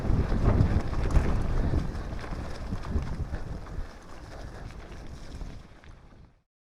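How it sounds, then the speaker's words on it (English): Wind rushes across an Exprotrek 4K dual-screen action camera's built-in microphone, making loud rumbling buffeting that slowly eases before cutting off abruptly, with no voices. "Very windy, don't you think? Lots of wind noise."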